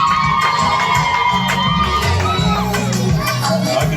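A church congregation cheers and shouts together at a worship service, a dense, steady roar of many voices, including children, that fills the whole stretch at close range.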